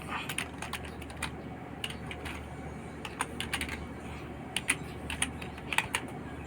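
A DNS address being typed into a web browser on a computer keyboard, with quiet, irregular key clicks in short bursts over a low steady background hum.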